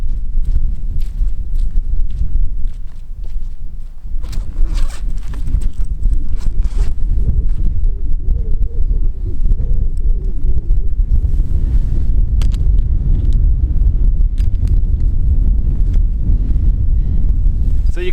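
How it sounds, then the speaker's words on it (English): Strong wind buffets a microphone outdoors on a walk to a landscape viewpoint, a continuous loud low rumble with gusty bursts and occasional crackles throughout. "So you could probably tell that it's quite windy"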